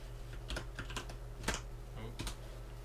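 Computer keyboard typing up close: a handful of sharp, irregular key clicks and taps scattered over a few seconds with a low electrical hum beneath, and no talking.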